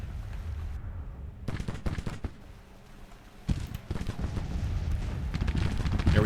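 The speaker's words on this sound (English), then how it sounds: "Their artillery's doing a nice bit of damage on us, and these guys are firing" Artillery fire and volleys of musket fire in the Civil War strategy game Grand Tactician, a run of sharp booms and crackling shots, loud and repeated, with denser firing toward the end.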